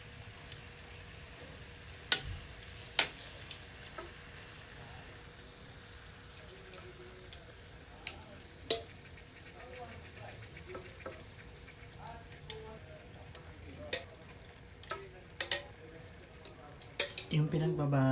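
Pork steak ingredients for bistek Tagalog toasting in a hot pan, a continuous low sizzle with sharp intermittent spatula scrapes and clinks, busier toward the end, close by.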